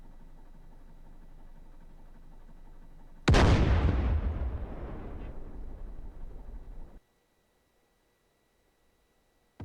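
In the DCS World combat simulator, an artillery shot goes off after quiet background hum: one sudden loud boom that rumbles and decays over about four seconds before cutting to near silence, with no talking.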